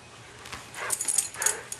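A dog gives a few short whimpers and yips, close by, in bursts that become louder toward the middle, over quiet outdoor background noise.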